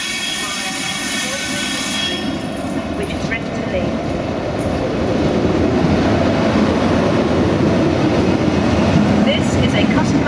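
A locomotive-hauled passenger train rumbles steadily nearby, a broad continuous roar that grows slightly louder partway through.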